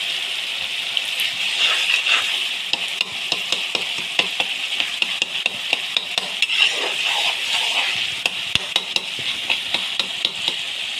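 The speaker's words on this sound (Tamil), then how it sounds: "நல்லா மேஷ் பண்ணணும்." Tomato rice being mashed and stirred in a frying pan, a steady sizzle broken by frequent sharp scrapes and taps of a spoon against the pan, close and continuous with no voices.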